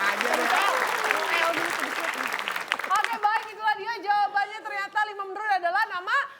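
Studio audience applause on an Indonesian TV quiz show, a dense crowd of clapping with chuckles for about three seconds, then fading as a host speaks clearly over the last of it.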